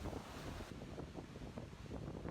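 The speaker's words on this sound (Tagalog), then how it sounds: "Sa isang beach sa Northern Samar, halos mag-zero visibility dahil sa lakas ng hangin at ulan." Typhoon wind and rain lash a beach in Northern Samar, a faint, continuous windy roar with gusty buffeting and no voices.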